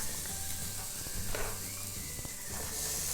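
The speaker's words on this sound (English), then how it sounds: "We are going to saute our onions." Onions saute in oil in a pan, giving a steady close sizzle with faint scraping and stirring noises and no voices.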